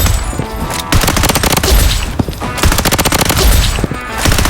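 Dense, continuous rifle fire from the AKG in the Blood Strike shooter game, rapid shots packed into long close bursts with only brief pauses, loud throughout.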